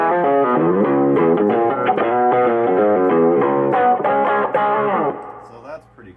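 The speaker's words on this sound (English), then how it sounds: "you can go down even lower and put some distortion" Electric guitar tuned down a whole step and played through distortion: thick, sustained chords ring loud and steady for about five seconds, then fade into a quieter tail.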